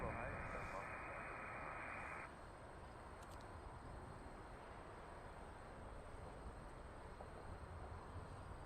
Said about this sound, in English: It's a Boeing 747, it's a giant aircraft.